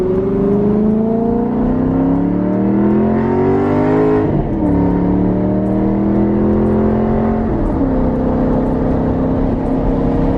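A 2009 Maserati GranTurismo with stock exhaust revs loudly and steadily, pitch climbing through gear changes with sharp shifts, a continuous close exhaust drone throughout.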